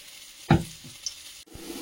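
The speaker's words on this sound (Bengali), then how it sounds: "আর 1 চাকা ভেজে নিচ্ছি" An eggplant slice fries in a pan, a soft sizzle broken by a sharp thump of the slice or utensil near the start and a brief quiet moment before the hiss resumes.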